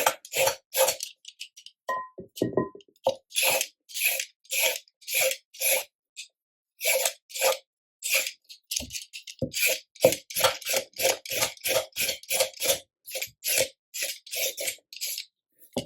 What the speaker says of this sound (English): go to the carrots and begin the peeling process. I love peeling carrots.